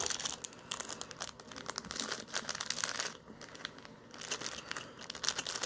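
Plastic and cardboard packaging of Resident Evil 2 collector's keys crinkling and rustling up close in uneven bursts, with a brief lull partway, no voices.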